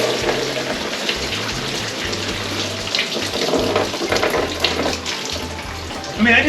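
Coolant pours out of an overheating 1928 Model A engine, a continuous close splashing trickle like a running tap that keeps flowing steadily, with a brief louder gush near the end.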